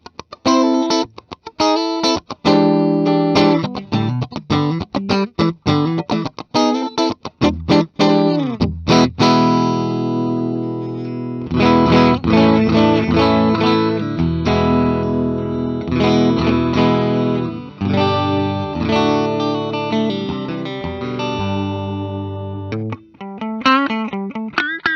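A 2023 Gibson Les Paul Modern Figured electric guitar with split pickups plays through heavy distortion: loud chugging staccato chords at first, then long sustained, ringing distorted chords, ending with a few more choppy hits.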